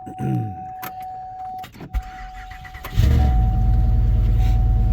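A car engine cranks with a whirring starter, catches, and settles into a loud, steady idle close by.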